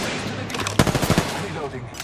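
A burst of rapid automatic gunfire from the video game Apex Legends rattles up close and dies out within about half a second.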